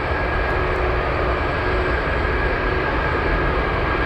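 A Douglas DC-6 piston airliner at Anchorage Airport gives a continuous, loud engine drone, steady and unbroken throughout the short stretch, with no talking.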